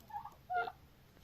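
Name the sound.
turkeys gobbling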